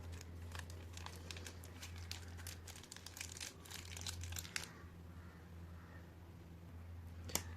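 A packet of ginger garlic paste crinkles and rustles as it is squeezed empty into a pot while cooking chicken biryani at home, a close, busy crackling that stops partway and leaves a quiet background hum.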